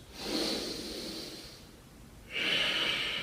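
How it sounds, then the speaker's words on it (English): Two slow, steady breaths drawn in and pushed out through the nose during an intense upper-body yoga workout, close and soft, with a quiet pause between them and no talking. "Steady breathing in and out of the nose."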